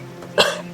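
A single short, sharp cough, close and clear, following a moment of near quiet.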